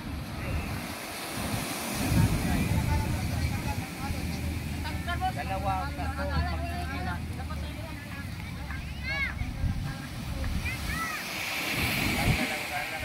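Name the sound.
waves sloshing against a boat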